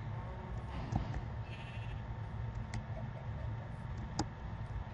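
Sheep bleating in the video game Minecraft, a few short faint bleats scattered over a dense, noisy background of farm ambience.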